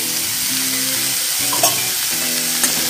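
Chopped tomato, salted, fries in a pan for a vegetarian pumpkin dish, giving a loud, continuous sizzle with a couple of brief stirring knocks.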